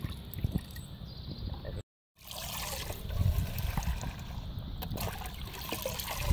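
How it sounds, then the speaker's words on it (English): Water spurts and trickles from holes punched in an empty plastic milk bottle, a steady splashing dribble with a brief dropout partway through. "The bottom hole's getting really long, and the top hole, the spurt is shorter."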